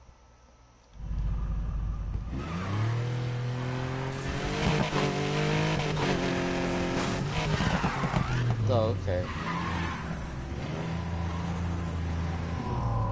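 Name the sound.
Porsche drift car engine revving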